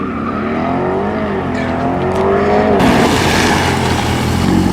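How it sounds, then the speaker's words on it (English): A Corvette launches off the line at an autocross event, the engine revving hard and rising in pitch, then a burst of tire noise and wind as it pulls away, loud and close. "I want to do launch control in the Corvette."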